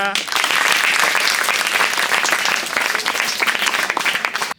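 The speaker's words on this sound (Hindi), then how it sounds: "तालियां।" Loud, dense applause fills a government school's award ceremony honouring students for strong 12th-grade results in Birohad, many hands clapping steadily before stopping abruptly, with voices faintly underneath.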